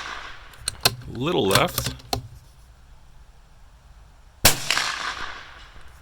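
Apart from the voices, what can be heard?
free-recoiling rifle shots hitting 8-inch and 10-inch targets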